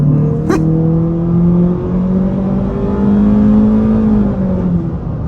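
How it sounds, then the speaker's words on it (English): A 2024 Honda Civic Sport Hatchback pulls hard at full throttle, its engine note climbing steadily in pitch, loud and close from inside the cabin, with a brief tick early on. "let's turn around and see exactly what full throttle feels like"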